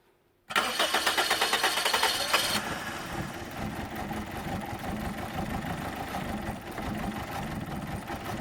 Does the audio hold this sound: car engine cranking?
yes